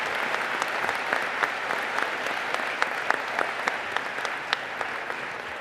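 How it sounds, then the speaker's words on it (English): Steady applause from a large commencement audience honoring university faculty and staff, dense and continuous with sharper individual claps popping through, sustained throughout without any speech. "Can you please give them a rousing round of applause as well?"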